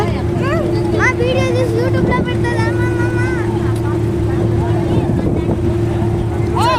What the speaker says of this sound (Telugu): సో అది వచ్చేసి ఒక పెద్ద బోట్ అన్నమాట, చాలా పెద్ద షిప్స్.